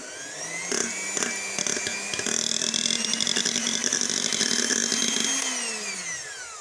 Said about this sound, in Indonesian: Giling sampai halus pemirsa ya.